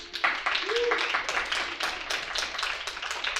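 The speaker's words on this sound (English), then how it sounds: "Round of applause, please." Scattered hand claps build into a steady round of applause from a small audience at a Go congress event, with a voice briefly speaking at the start and sustained clapping continuing to the end.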